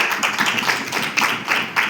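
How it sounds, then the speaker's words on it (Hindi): Audience clapping at a recruitment and leadership talk, a dense continuous patter of many hands heard fairly close with a few louder bursts and no talking over it. "आइए तालियां हम चाहिए आप सभी के लिए।"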